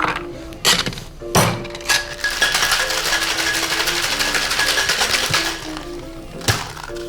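A cocktail shaker holding a Blood Orange Cosmopolitan is shaken hard, a loud close rattle of ice and metal in a sustained run, bracketed by a few heavy knocks at the start and end.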